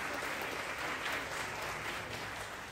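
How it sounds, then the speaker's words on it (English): Parents are applauded by the audience at a fifth-grade elementary school ceremony, a steady wash of clapping from the crowd, fairly soft and continuous. "Let's give a round of applause to your parents."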